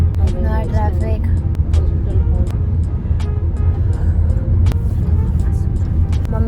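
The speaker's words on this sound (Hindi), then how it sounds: "ट्रैफिक" Road traffic rumbling steadily at close range, with engine drone, passing vehicles and scattered horn-like tones throughout.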